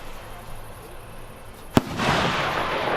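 A hand-lit firework gives off one sharp, loud bang at close range, followed by a lingering hissing rumble over faint background noise. The setting is an outdoor fireworks display by a pyrotechnics company.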